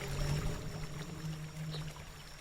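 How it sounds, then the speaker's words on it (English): Soft, steady rush of a waterfall, with continuous splashing water noise and a faint low hum underneath, heard fairly quietly and without voices. "this one has a waterfall in it"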